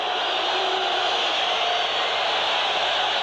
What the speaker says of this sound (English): So now this crowd comes to life.